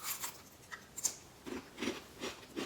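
Crisp, crunchy bites into a freshly made jalebi, several sharp crackling crunches in quick succession, close and fairly quiet with no talk.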